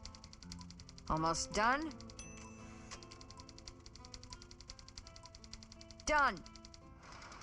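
Rapid typewriter-style clacking in the video game Thimbleweed Park, a steady fast stream of key strikes punctuated by two ringing bell-and-carriage-return sweeps, with brief speech in between.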